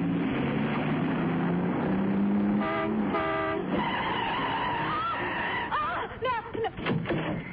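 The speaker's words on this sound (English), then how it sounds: "Stop the car, Miss Benson, and drive until I tell you to stop." A car screeches to a stop as a radio drama sound effect, with a long tire squeal over engine noise and a horn-like tone. Voices speak briefly near the end.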